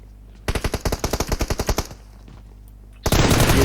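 Machine-gun fire in PUBG on the Erangel map, a fast burst of about a dozen loud close shots over roughly a second and a half, then a pause before a harsh blast of noisy gunfire.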